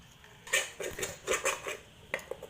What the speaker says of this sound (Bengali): আমরা গুলাচ্ছি মানে আম আর জাল করা দুধ দিয়ে একসাথে মিশিয়ে দিচ্ছি